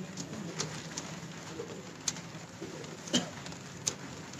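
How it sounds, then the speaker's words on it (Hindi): A pigeon coos softly and low in the background on a rooftop, while a few sharp clicks and taps stand out against a quiet ambient hum. "ये जी वो कबूतर है"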